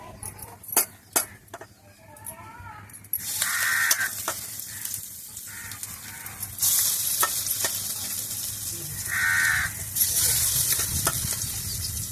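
Food frying in a pan, bursts of sizzling hiss rising and falling as items are fried crisp, with a couple of crow caws and occasional utensil clinks in between.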